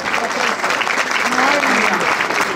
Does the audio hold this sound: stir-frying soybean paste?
no